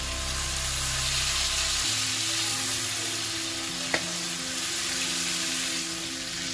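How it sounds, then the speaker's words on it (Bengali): Prawns fry lightly in hot oil with a steady, loud, continuous sizzle for several seconds, with a brief scrape of stirring partway through and no voices. "না, বেশি ভাজলে চিংড়ি মাছগুলো শক্ত হয়ে যাবে, তাই অল্প করে আমি ভেজে তুলে নেব"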